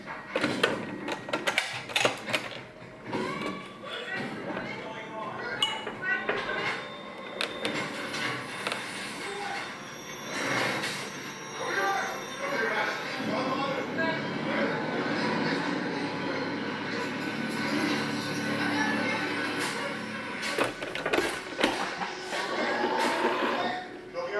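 A sewing machine stitches swimsuit lining for a bikini, giving off rapid mechanical clattering in uneven bursts with short pauses, close and moderately loud.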